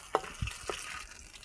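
Bay leaves, dried chilli, cumin and panch phoron fry in hot oil with a steady hiss and a few sharp crackles and spatters, close and fairly quiet.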